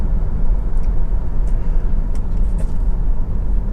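A Honda CR-V 2.2 i-DTEC EX 4x4 diesel SUV drives along a quiet country road, heard from inside as a loud, steady low rumble of engine and road noise with a few faint ticks.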